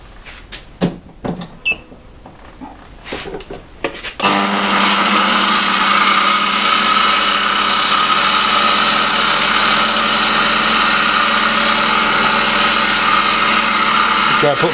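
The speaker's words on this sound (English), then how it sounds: "I've got a little diamond wheel dresser in there. I'm gonna give it a go." A homemade T&C grinder with a diamond wheel dresser starts after a few handling knocks, then runs at a loud, steady, high-pitched whine that holds to the end.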